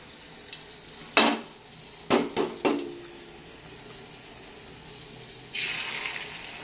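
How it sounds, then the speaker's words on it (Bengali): Beaten egg goes into hot oil in a pan for a fried egg dish: a few sharp metallic clinks and scrapes of stirring, then a soft rising sizzle near the end, all close and fairly quiet. "ডিমটাকে ঢেলে দিলাম, নাড়তে হবে।"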